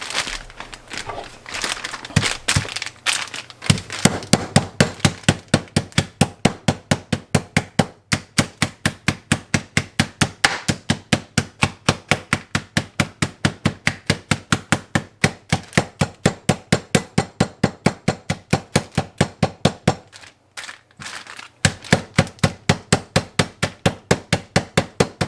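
Deer tenderloin pieces sealed in a bag are whacked over and over with a meat mallet, a long run of sharp, evenly spaced close thuds with a brief pause before the pounding resumes.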